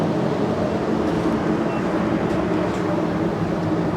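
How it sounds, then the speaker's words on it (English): A spray gun mists base coat blender around a repair area of Ford Ruby Red car paint, giving a loud, continuous hiss of rushing air with no breaks and no voices. "I am going to spray a little bit of base coat blender around the area"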